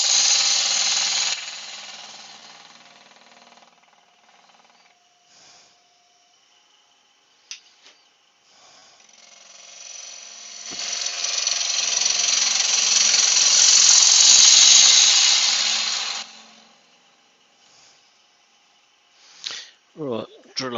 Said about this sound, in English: Right, drill a hole now.